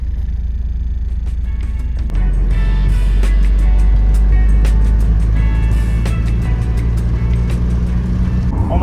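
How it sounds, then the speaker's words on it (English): A car driving just after a fresh oil change: a steady engine and road rumble that swells louder after a couple of seconds, with faint ticks and clicks on top. "with the fresh oil, the car feels amazing. I love driving this thing."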